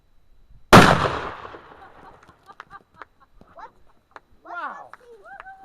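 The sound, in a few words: rifle or shotgun slug shot hitting a pumpkin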